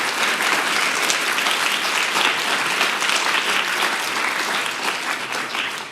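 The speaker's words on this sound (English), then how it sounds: "Please join me in lending a very, very warm round of applause to Professor Stiglitz for his time today." Loud, dense applause from a journalism seminar audience, a steady wash of many hands clapping close by that carries on for the whole stretch and eases slightly at the end.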